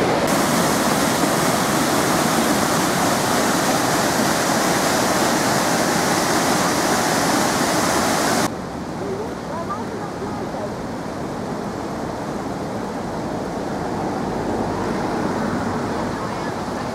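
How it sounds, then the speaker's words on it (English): A river in Snowdonia, Wales, rushes past nearby as a steady, loud broadband roar. Partway through the wash abruptly drops to a softer, duller flow that carries on evenly to the end. "And I was sitting all the time beside this river here."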